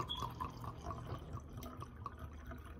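Taylor port wine poured into a glass, a soft close trickle with small splashing drips running for nearly three seconds, quiet and alone.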